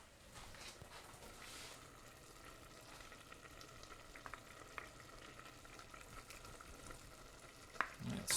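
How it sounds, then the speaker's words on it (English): Vegan gumbo with adobo chili simmering and sizzling in a pot while being stirred, a steady, soft cooking hiss with a few scattered clinks and scrapes, the loudest near the end. "Stir all that up."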